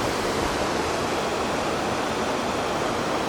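Arbuckle Creek rushes over rocks beside its bank, a steady, full wash of flowing water with no break.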